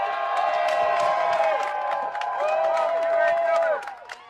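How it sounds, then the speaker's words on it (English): A rally crowd cheers and whoops loudly and continuously, with clapping and shouts blending into a dense roar that fades near the end. "they're going to start cheering him on"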